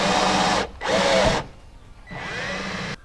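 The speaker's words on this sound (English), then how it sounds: "wanna drill the holes." A power drill boring holes through a metal brace while a transmission cooler hose is installed, two close, loud whining bursts, then a pause and a third burst.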